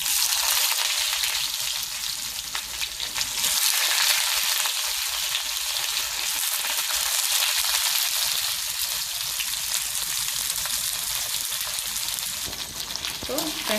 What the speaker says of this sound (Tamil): இப்போ வெங்காயத்தை நல்லா வதக்கிக்கோங்க.